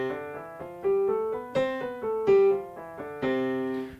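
Piano scale running up and back down, individual notes struck with uneven accents so some ring noticeably louder than their neighbours; solo and close, with no talking.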